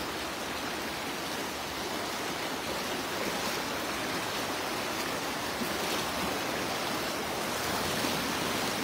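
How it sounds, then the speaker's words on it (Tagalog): A strong river current rushing at a fishing spot, a dense, steady broadband roar of flowing water that stays close and unbroken throughout, with no voices. "Malakas na yung agos dyan."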